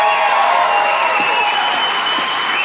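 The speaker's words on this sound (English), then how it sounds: "Everyone get a big round of applause for Peter Stris." An audience applauds a lawyer who has argued before the Supreme Court seven times as he comes on stage, a dense, steady wash of clapping held at an even level throughout.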